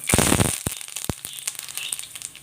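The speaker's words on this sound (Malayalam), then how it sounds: "ഒരു പാൻ അടുപ്പത്ത് വെച്ച് അതിൽ ഒരു ടേബിൾ സ്പൂൺ വെളിച്ചെണ്ണ ഒഴിച്ചിട്ടുണ്ട് അതിലേക്ക് ഒരു തണ്ട് കറിവേപ്പില ഇട്ട് കൊടുക്കുക" Curry leaves hit hot coconut oil in a pan and splutter, a loud burst of crackling followed by scattered sharp pops that fade into a light sizzle.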